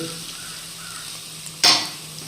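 Crushed shallots, about 200 g, hit a hot pan for a Kerala-style beef roast: after a quiet stretch, a sudden loud sizzling burst erupts and then settles into a softer frying hiss.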